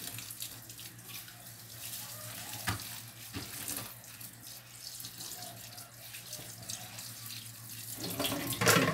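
Soaked food being washed and scrubbed under a running kitchen tap, a steady close rush of water with splashes and scrubbing thumps, building louder toward the end, with no talk.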